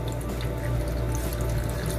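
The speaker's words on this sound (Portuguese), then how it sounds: "Agora, amores, eu vou colocar água." Water from a tap runs steadily into a cooking pot already holding vegetables such as eggplant. The filling is continuous and close, alone with no talk.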